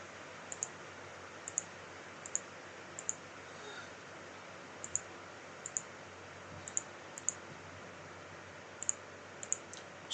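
Sharp, quiet computer mouse clicks come singly and in quick pairs at irregular intervals over a faint steady hum, with no talking.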